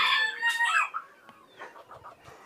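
Chickens on a poultry farm cluck and cackle close by, a loud burst of calls at first that eases into softer, scattered clucks.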